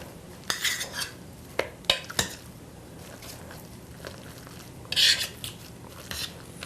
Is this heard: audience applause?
no